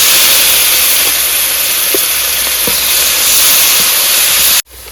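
Chopped onion, ginger and garlic hit hot oil with a loud, steady sizzling hiss that runs close and continuous, then cuts off abruptly near the end.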